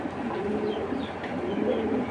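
A racing pigeon coos softly and continuously nearby, a low murmuring burble with no voices over it.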